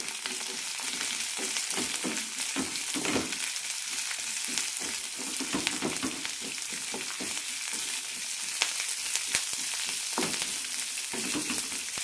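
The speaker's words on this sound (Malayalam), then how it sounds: "കുറച്ച് മല്ലിയില രണ്ട് ചുവന്നമുളക് ഒരു പച്ചമുളക് നന്നായി വഴറ്റാം" Coriander leaves with red and green chillies sautéing in a pan, a continuous loud sizzle and crackle of frying oil with occasional stirring scrapes, no voices.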